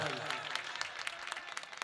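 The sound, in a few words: audience clapping at mushaira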